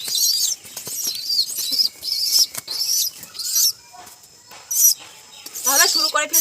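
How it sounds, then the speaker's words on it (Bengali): Four pigeons held for slaughter beat their wings in repeated flurries of close, papery flapping and rustling, while a person talks. "দেখো, 4-4টে কবুতর নিয়েছি।"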